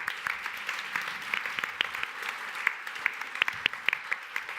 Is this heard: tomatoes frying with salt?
no